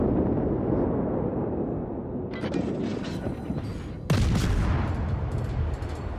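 Naval guns from a Wickes destroyer in World of Warships boom over a rumbling sea-and-engine bed, with a softer salvo first and then one sharp, loud blast near the end.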